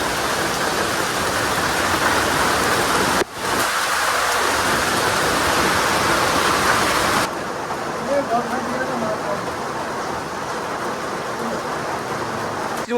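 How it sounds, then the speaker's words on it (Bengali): A downpour in a forest, with dense rain hissing loudly and splashing on nearby surfaces, briefly cut by a sharp break and later dropping to a softer, more distant wash, while speech surfaces faintly beneath the rain. "প্রচুর বৃষ্টি হচ্ছে"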